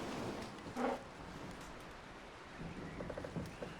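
Rain falls steadily during a thunderstorm in Red Dead Redemption 2, a faint hiss with a soft low rumble and a brief swell, and no one speaks.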